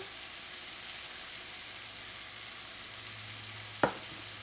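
Potato pieces cook in a pan of thick curry for samosa filling, giving a steady close sizzle. Near the end come two sharp utensil knocks.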